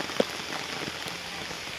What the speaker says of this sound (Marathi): बघू जोरात पाऊस लागलेला आहे.